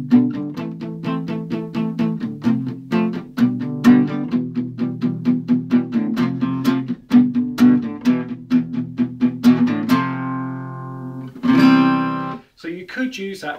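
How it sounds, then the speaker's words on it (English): Palm-muted guitar strummed with quick steady downstrokes, each stroke a short choked chug in an even rhythm, ending with a few ringing open chords that sustain before fading. "you're playing just downstrokes and you're using your palm to mute it"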